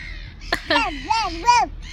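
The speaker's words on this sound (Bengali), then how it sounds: "পাখি কি বলে ডাকছে" A crow caws several times close by, harsh arched calls in quick succession after a sharp click.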